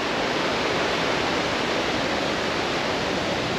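Sailor's Creek in flood and a large waterfall rush, a dense, steady roar of water that fills the air at constant loudness with no other sounds.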